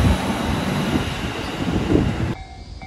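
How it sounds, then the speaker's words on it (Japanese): A train bound from Ebina station rushes past on the rightmost track near a level crossing, a loud close rumble with rattling wheels that cuts off abruptly near the end. "お、来ましたね。 海老名駅の列車ですね。"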